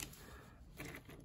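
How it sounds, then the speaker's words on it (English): Clicky NK Cream Clickies keyboard switches, heard as a short run of quiet, close keystroke clicks, fairly faint. "this is for someone who likes the sound of clicky switches"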